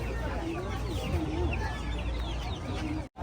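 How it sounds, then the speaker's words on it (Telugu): Small chickens, including black hens, cluck steadily at a traditional Korean outdoor market, close and moderately loud amid general market bustle, with a brief dropout near the end. "చిన్న చిన్న కోళ్ళు ఉన్నాయి నల్ల కోళ్ళు కూడా ఉన్నాయి"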